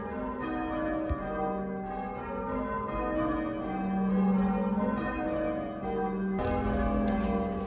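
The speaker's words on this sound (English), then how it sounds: "We were surprised to hear the church bells ringing and wondered what the event was." Church bells rung by a team of bell ringers at practice, a continuous overlapping peal of tolling tones heard from nearby, fairly loud and unbroken.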